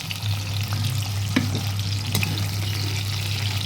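Pointed gourd (potol) frying in a pan on low heat, a steady soft sizzle with a low constant hum underneath and a couple of brief scraping clicks, no talking.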